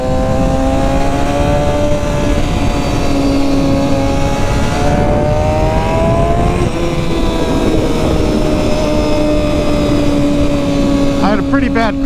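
A Kawasaki ZX motorcycle, back on the road after crash repairs, runs at steady loud engine tone through a test ride, its pitch climbing gently then dropping and rising again, with wind roar underneath and speech-like voices mixed in.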